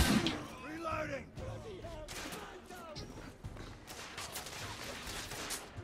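Gunfire in The Order: 1886 crackles in quick bursts and scattered shots through a busy battle, mixed with game voices and speech throughout.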